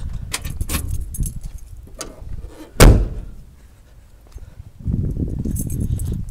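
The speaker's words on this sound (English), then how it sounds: "grab the key from the trunk" Car keys jangling as they are grabbed from the trunk, metallic rattles close by, followed by a sharp thud like the trunk lid closing and quiet rustling afterward.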